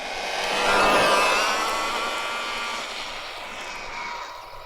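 An Arrma Infraction RC car with a loud gear mesh whine drives past, a high whirring drone that swells as it nears, then fades and shifts pitch as it moves away.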